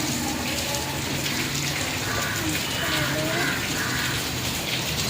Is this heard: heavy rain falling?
yes